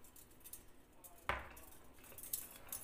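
A metal utensil gives one short clink against a dish while stirring sea bass fillets in a vinegar mixture, faint and brief in an otherwise quiet kitchen.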